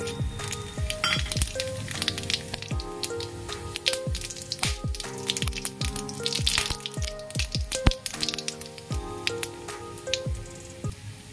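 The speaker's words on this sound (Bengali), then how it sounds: "এবার এর মধ্যে দুটো লবঙ্গ, 2-3 টুকরো দারচিনি, দুটো ছোট এলাচ, একটা লঙ্কাকে 2 টুকরো করে নিয়েছি, আর অল্প একটু জিরে ফোড়নে দিচ্ছি" Two cloves, cinnamon pieces, small cardamoms, a halved chili and a little cumin sizzle in hot oil. A dense, continuous crackle is punctuated by frequent sharp pops, close and loud.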